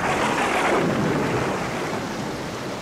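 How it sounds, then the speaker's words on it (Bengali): A storm roars with heavy rain and rumbling thunder, a dense, loud, continuous wash of noise for a Bengali horror audio story. "চারিদিকে ঝড়ের গর্জন আর বৃষ্টির শব্দ।"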